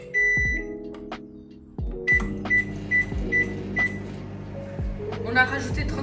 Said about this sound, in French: il faut le refermer et ça va passer 2 minutes dans le micro-ondes.